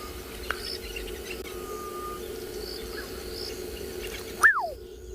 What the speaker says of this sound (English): Black-headed oriole calling